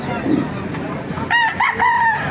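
Black Bonanza roosters crow at a busy chicken market, one loud nearby crow rising and falling in the second half, with faint clucking and background murmur of people talking.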